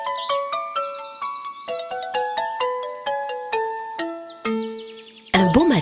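A magic bell chime effect, a sparkling run of bright bell tones descending step by step in a rhythmic cascade with shimmering overtones, clear and alone, followed by a short burst of another sound at the end.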